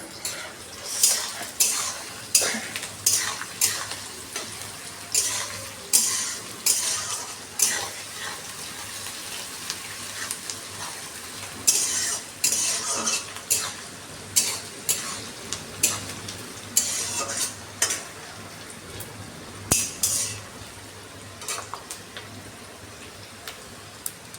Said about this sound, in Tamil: ஓகே, வெங்காயம் வந்து நல்லா வதங்கிடுச்சு